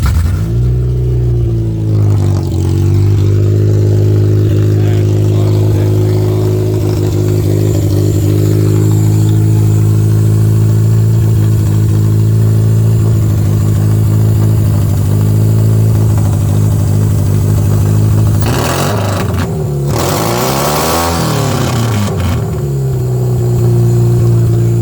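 A Toyota Camry engine, recently revived after running poorly, is started and settles into a loud, steady idle close by, with a rising rev and a few rough surges partway through.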